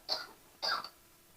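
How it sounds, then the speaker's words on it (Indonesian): Two short, harsh coughs from a person, spaced about half a second apart, close and fairly clear against a quiet background. "Itu kenapa masih batuk-batuk itu?"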